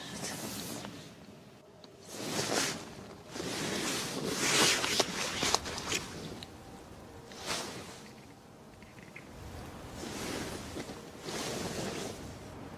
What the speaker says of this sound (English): The wind doesn't stop.